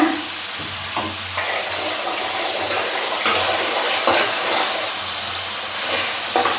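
Beans and potatoes cook in oil with a continuous sizzling hiss, marked by a few sharper clicks and scrapes of stirring along the way.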